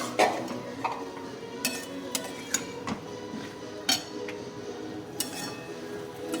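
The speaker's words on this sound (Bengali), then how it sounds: "মিট মশলা, এবার একটু নেড়ে নিই।" A spoon stirs chicken with meat masala in a metal pan, with soft scraping and scattered sharp clinks against the pan over a steady low background, no talking.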